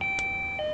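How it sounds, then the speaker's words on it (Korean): A short electronic doorbell chime, clear steady tones lasting under a second, with a faint click partway through and no voices. "초인종 소리가 울려 문을 열어보니"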